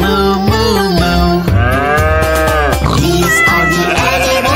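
A children's animal sounds song in which a singing voice imitates a cow's moo, with repeated drawn-out lowing notes over a loud, bouncy musical backing.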